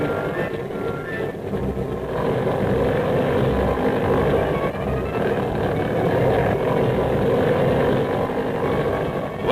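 A P-51H Mustang propeller aircraft taxis to the downwind end of a runway at a California Air National Guard field, its engine a steady, rumbling drone that holds moderately loud for the whole stretch.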